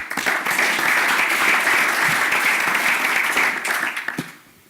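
Audience applause at a boxing press conference for Gennady Golovkin versus Kell Brook, a loud, dense burst of clapping that holds steady for about four seconds and then fades out quickly.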